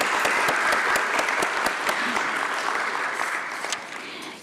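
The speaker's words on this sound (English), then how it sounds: "let's have a huge round of applause for Deccan Healthcare Limited," Dense, steady audience applause fills a company listing ceremony for Deccan Healthcare Limited, with crisp individual claps standing out at first before the clapping thins and tapers off near the end.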